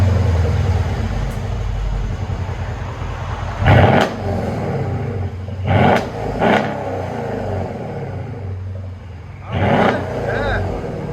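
A straight-piped 2013 Mercedes CLS 550 bi-turbo V8 exhaust idles with a burbling rumble, then four sharp, aggressive revs burst out, with pauses settling back to idle between them.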